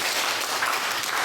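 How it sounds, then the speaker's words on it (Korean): A church congregation breaks into a brief, dense burst of applause during a thanksgiving service, with continuous, even clapping filling the whole moment. "박수 한번 좀 쳐주세요"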